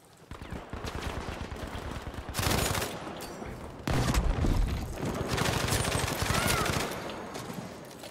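Sustained bursts of M1922 machine gun fire in Battlefield 5 rattle close and loud in dense rapid strings, with brief pauses between bursts over a busy battle backdrop.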